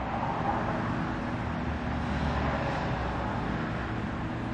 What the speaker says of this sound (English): And there we can hear a few cars going by.